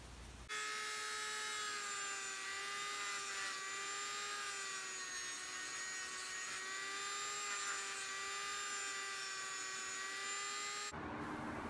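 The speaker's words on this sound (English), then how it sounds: "I'll cut some ridges around the circumference of this." A rotary tool with a diamond burr cuts ridges around a phenolic billiard ball, giving a steady high-pitched whine with strong tonal harmonics. The pitch wavers slightly as the bit bites, and the sound runs continuously for about ten seconds before stopping abruptly.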